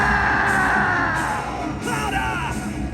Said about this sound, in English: I can't hear you! Scream for me louder!